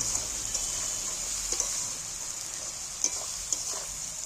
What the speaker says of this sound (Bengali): রসুনটা তুলে দিই পেঁয়াজের সাথে একটু ভেজে নিচ্ছি